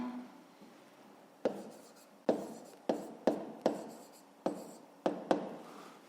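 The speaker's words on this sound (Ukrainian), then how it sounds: "Ну і записуємо наше рівняння" A pen or pencil writes a math equation by hand on paper, with a series of about nine sharp taps and short scratchy strokes spaced irregularly, close and quiet against a silent room.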